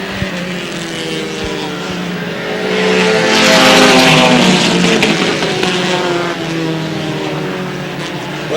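Race cars roar around a track at an evening race, engines swelling loudly as a pack passes close by, then fading into a sustained drone.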